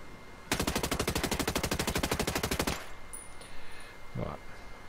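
Sustained automatic burst from an 805 BREN rifle in Ghost Recon Breakpoint, firing rapidly for about two seconds with loud, evenly spaced shots, then a brief clatter afterward.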